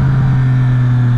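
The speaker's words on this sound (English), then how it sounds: "That's a good rev match." Motorcycle engine held loud and close during a rev-matched downshift, a steady throbbing drone with no talk over it.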